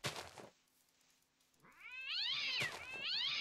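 A cat mob in the Minecraft Crazy Craft modpack meows repeatedly at close range, a short cry followed by rising, wavering meows that grow louder, with no talking.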